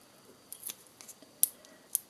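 Scissors snip ribbon ends on a gift box, a few quick, crisp close cuts spaced unevenly in a short quiet moment.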